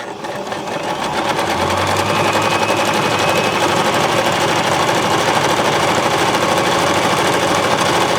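Baby Lock Zest sewing machine stitching across a fabric slit, a steady rapid mechanical whirr with fast needle chatter running loud and continuous throughout, with no voices.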